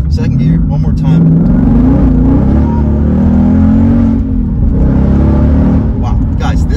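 Ford Mustang RS3 Phase 2 with a 6-speed manual accelerating hard, a loud, continuous engine roar with rising pitch and a short lull mid-way, heard from inside the car.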